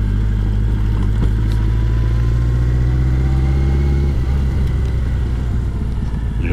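BMW K100 motorcycle with a sidecar cruising in top gear at around 70 km/h, a loud steady mid-pitched engine drone with a slight pitch drop near the end, heard close up.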